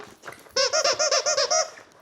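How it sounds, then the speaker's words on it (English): A squeaky dog toy squeezed repeatedly, about eight loud, evenly spaced high squeaks in quick succession, close and clear with no talking over them. "Is this Squeak? This one squeaks, right?"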